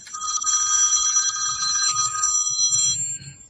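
A phone rings with a bright electronic ringtone, a sustained warbling tone pattern running nearly the whole stretch, fairly loud and close, with faint low rustling beneath.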